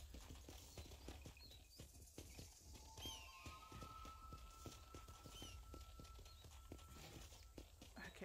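Horse hooves clip-clopping in the Red Dead Redemption video game, a steady rhythmic stream of hoofbeats over ambient outdoor sound, with a faint tonal whistle partway through.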